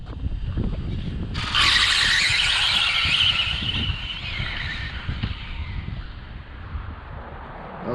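A radio-controlled drag racing car with a new motor, run as a street eliminator, rips off the line at full throttle with a sudden loud high-pitched whine that gradually fades into the distance over background rumble.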